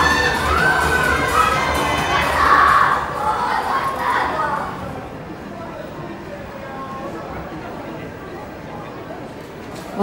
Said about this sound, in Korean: 여러분들 너무 많이 응원해주시고 함성 외쳐주셔서 분위기가 후끈 달아오른 것 같습니다